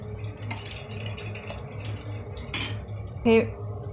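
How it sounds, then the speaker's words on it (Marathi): A spoon stirs two spoons of gram flour into yogurt in a bowl for kadhi, rhythmic soft scraping with a few sharper metallic clinks against the rim. "या दहीमध्ये 2 चमचे बेसन पीठ ॲड करून छानपैकी मिक्स करून घेणार आहोत"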